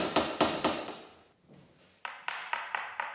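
Knuckles rap on a cheap, lightweight interior door, three hollow knocks, a short quiet gap, then a quicker run of five sharper taps, close and clear with no talking.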